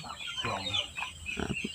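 Native kampung chickens cluck nearby in short, irregular bursts, with soft farmyard background noise behind them.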